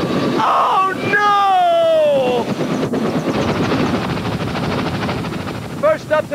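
A WPXI Chopper 11 news helicopter in 1989 sets up a loud continuous rotor chop and engine roar that stays steady from start to end, with a voice heard briefly near the beginning.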